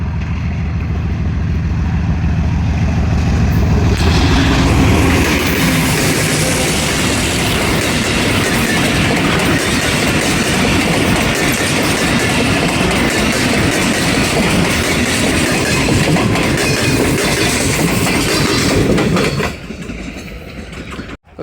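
A passenger train arriving from Multan rolls past on the rails with a loud, close, continuous rumble and rapid wheel clatter for about twenty seconds, then cuts off abruptly.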